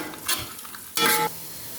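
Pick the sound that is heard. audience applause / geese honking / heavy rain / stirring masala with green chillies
stirring masala with green chillies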